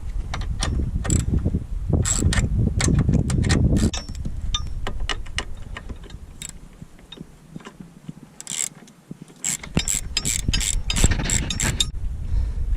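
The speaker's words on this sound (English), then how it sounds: "to take these two bolts out, we are going to need a 13 millimeter." A ratchet wrench clicks rapidly and close as bolts come out of a BMW M240i engine bay, in bursts of fast ticking separated by short pauses.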